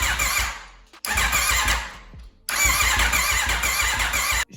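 A 2021 Aprilia RSV4 motorcycle engine cranks without firing in three loud, close bursts of starter whir, split by short silences, with no catch and no talk.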